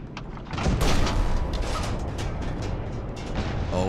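A tank cannon fires in the video game War Thunder, giving a loud, close boom followed by a long rumbling roar with no talk over it.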